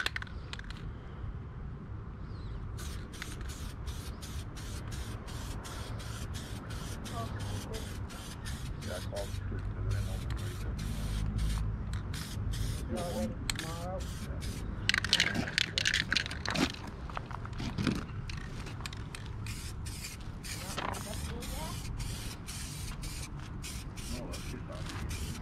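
Green spray paint hissing from an aerosol can in short bursts, with rattly crackling and steady low mechanical rumble underneath, and people talking at times.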